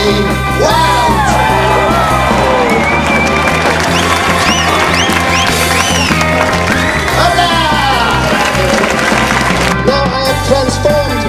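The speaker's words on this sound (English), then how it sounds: "the crowd goes completely, totally, not utterly wild" A theatre crowd cheers wildly during a striptease act, with dense continuous shouting, whooping and clapping, loud and close, under bright music with rising melodic lines throughout.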